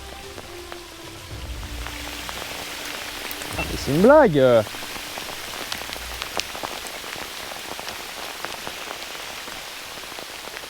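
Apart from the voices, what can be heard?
hail falling during trout fishing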